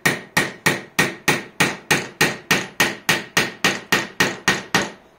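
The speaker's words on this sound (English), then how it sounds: "So as you can see, has a pretty easy time hammering it in." A light hammer beats on a piece of high impact resistant resin with about fifteen crisp, bright strikes in a steady fast rhythm. Each knock rings briefly and sounds close and loud, with no talking.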